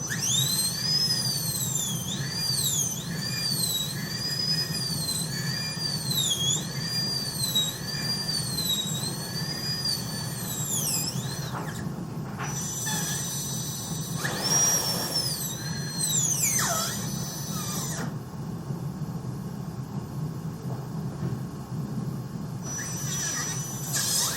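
A dental burr whines at high pitch while drilling a tooth to prepare for an all-ceramic onlay, the tone rising and dipping in repeated sweeps over a steady suction hum, with brief pauses.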